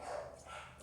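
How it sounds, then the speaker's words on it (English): A few dogs bark in short yips behind a steady background hum, fairly faint and brief, with no one speaking over them. "sorry about the dogs"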